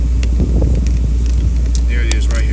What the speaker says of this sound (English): The idle control valve is having issues on this vehicle.